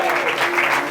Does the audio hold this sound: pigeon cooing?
no